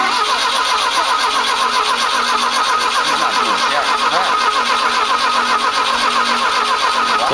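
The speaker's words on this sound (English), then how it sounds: "That's gonna fire. Try 4. It's gonna go." A 1976 Fiat Spider engine cranking and trying to fire, a loud, close, steady churning mechanical drone that does not catch and run, with no talk over it.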